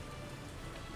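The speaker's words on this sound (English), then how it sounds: "Ooh, rain." Steady rain in the city-building game Workers and Resources, a continuous even hiss of drops on surfaces with a low rumbling bed, uniform and unbroken throughout.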